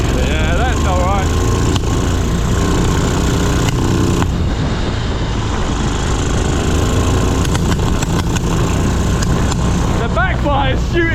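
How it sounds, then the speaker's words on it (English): A three-wheeled vehicle's engine runs loud and close on a green lane, with sharp backfire bangs cracking over the rough, continuous engine noise while people shout and exclaim. "Backfire shooting, pressurising the carburetor and fucking shooting fuel out the overflow."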